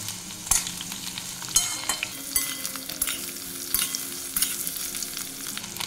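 Ridge gourd fries in a pan over a high flame, giving a constant sizzle with repeated sharp scraping and tossing strokes of a spatula at roughly one-second intervals.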